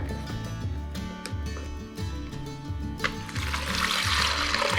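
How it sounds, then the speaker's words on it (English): Homemade vegetable broth poured from a pot into a freezer bag held in a bowl, a close, steady liquid gurgle and trickle over soft background music, swelling louder toward the end. "I want to go ahead and use a bowl to support the bag while I'm pouring it in"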